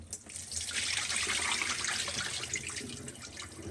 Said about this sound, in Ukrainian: вода біжить, а я їх отак буду просто промивати